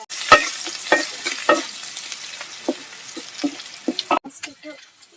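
Jute leaves fry with coconut paste in a pan on a clay stove, with close, crisp spatula scrapes and clacks repeating over a light sizzle.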